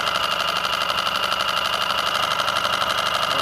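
Yamaha F5 outboard motor being tested after repair, running steadily and close with an even, rapid mechanical chatter and a constant drone, no voices heard.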